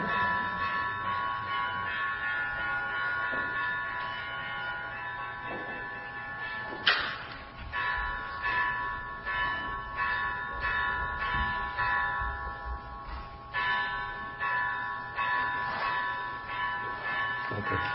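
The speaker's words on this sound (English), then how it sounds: "Does the gong sound longer on Saturday than on the other days of the week?" A temple gong rings in a Buddhist chanting setting, its long sustained tone hanging in the air with a fresh strike near the middle and another later, each swelling then slowly decaying.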